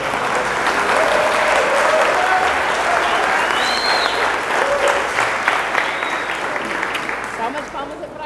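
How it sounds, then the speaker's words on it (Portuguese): Sustained applause from a church congregation fills the room, loud and steady, then slowly thinning toward the end, with voices mixed in. "Quem pode dar uma salva de palmas"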